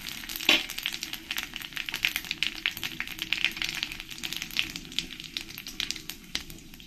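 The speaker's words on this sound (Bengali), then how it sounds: "দিয়ে ভালো করে একটু তেজপাতা শুকনো লঙ্কাটাকে ভেজে নেব" Whole cumin, dried red chillies and bay leaves fry in hot oil in a kadai, producing a lively stream of close crackles and spits over a soft sizzle, with one sharper pop early on.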